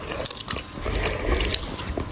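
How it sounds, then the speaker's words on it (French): People chewing food as a horror sound effect: wet, squishy biting and mastication noises, close and continuous, with soft crunches and no speech. "Ils mâchaient."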